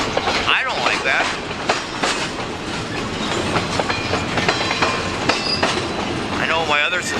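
A railroad train passes close and loud, its wheels clattering in a steady clickety-clack while high squealing, whining tones rise and fall throughout.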